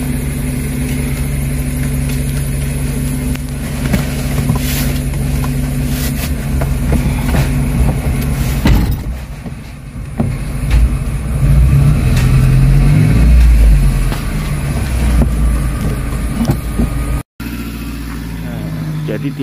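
A small car carries passengers home after a Jakarta to Central or East Java bus trip; its engine hums and rumbles from inside the cabin, surging louder midway, with people talking over it.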